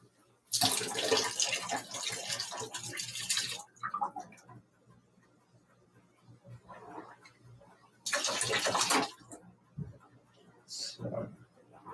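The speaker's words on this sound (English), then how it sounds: "this small of a hose, it's hard to get a good siphon going" Bursts of rushing, splashing water as a small hose siphons water into a fish tank during a water change, loud surges alternating with quieter trickling and gaps.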